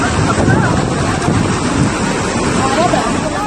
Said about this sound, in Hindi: पार्वती नदी उफान पर है,